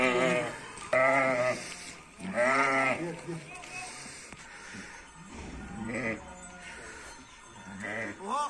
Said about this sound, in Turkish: Bak benim dediğim koyun.